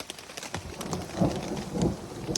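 Rain and a rumbling thunderstorm on the Colorado Trail, with steady rainfall pattering nearby and low thunder rolls swelling twice, no one speaking.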